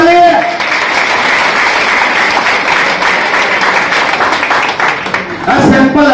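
Loud, continuous clapping from an audience at a business-plan seminar carries steadily for several seconds. Brief bits of talk can be heard at the start and at the close.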